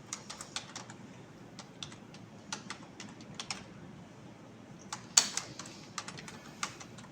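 A computer keyboard is typed on in quick bursts of clicky keystrokes with short pauses, close and moderately quiet, and one sharper, louder key press stands out midway.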